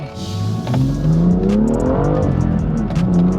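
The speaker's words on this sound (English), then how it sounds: "There's that auto rev. I don't like that." BMW 1M or M2 engine blipping its revs automatically on a downshift, a loud rising and falling engine whine inside the car, alone without talk.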